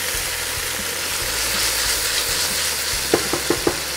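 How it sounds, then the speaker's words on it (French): Onion and veal tendrons sizzle steadily in a hot pan, a continuous frying hiss with a few sharp utensil scrapes and taps clustered near the end; no voices. "On va faire revenir un peu l'oignon avec les tendrons."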